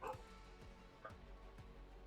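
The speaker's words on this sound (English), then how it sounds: "dogs in the background are barking" Dogs bark in the background, a few sharp, distant yips and woofs spread across a couple of seconds over a low steady hum, with no talking.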